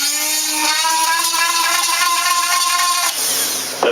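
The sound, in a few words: drilling holes through wooden model canopy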